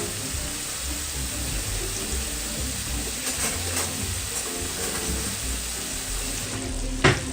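A steak sears in a hot pan with a steady, dense sizzle that runs without a break, close and fairly loud. A brief clatter comes near the end, and no voices are heard.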